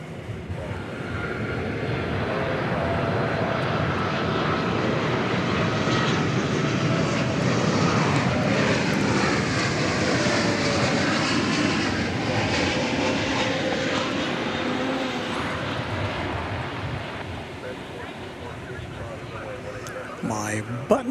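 An airliner takes off from DFW Airport bound for Honolulu, its engines building into a long, loud, sustained roar that fades slightly near the end, with a voice talking over it.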